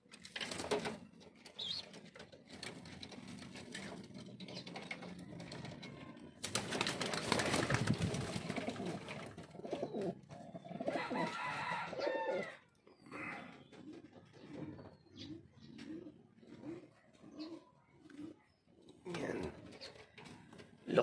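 Checkered pigeons in a backyard loft give soft, repeated rhythmic coos, close by but quiet, mixed with rustling and handling noises while someone talks.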